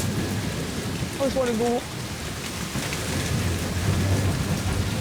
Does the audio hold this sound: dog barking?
no